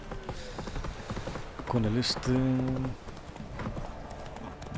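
Horse hooves clip-clopping in The Witcher 3, a steady rhythmic trot close by, with a brief whinny and a voice speaking over the gameplay.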